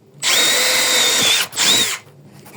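A cordless drill with an 8.5 mm bit bores through wood near the end of a board, giving two loud close whining bursts, a long one then a short one, with no talk.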